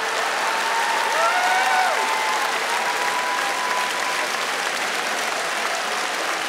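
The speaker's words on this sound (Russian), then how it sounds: "Ваши аплодисменты сборной Полтава ровно Манхэттен." Studio audience at a televised comedy league contest applauds a team in steady, dense, even clapping that holds for several seconds, with faint whistles rising over the crowd.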